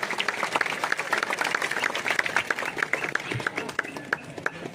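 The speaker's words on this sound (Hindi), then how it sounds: "उपस्थित आदरणीय सभी अतिथियों से जोरदार तालियां हो जाए इस योद्धा के लिए" Audience applause at a Vijay Diwas veterans' ceremony in honour of a retired subedar, steady clapping from a gathered crowd at moderate distance, lasting through the clip.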